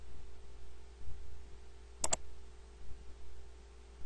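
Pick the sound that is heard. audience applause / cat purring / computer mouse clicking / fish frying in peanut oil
computer mouse clicking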